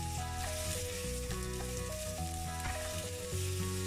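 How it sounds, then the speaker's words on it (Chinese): Green peppers and seasonings stir-fried in hot oil in a wok over high heat, a steady loud sizzle with scraping stir strokes throughout, no voices. "热锅下油，把油推开，先放佐料，炒出香味后下青椒炒一炒"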